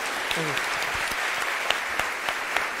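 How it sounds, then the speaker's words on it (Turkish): Audience applause at a university theology lecture, steady clapping from a crowd that runs throughout at moderate volume while someone speaks over it. "Alkışla, şimdi alkışlayacaktınız bak."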